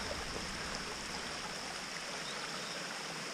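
Continuous broadband rush of Skinny Falls, a waterfall in Savage Gulf, heard as a steady, even roar of falling water at moderate distance with no voices.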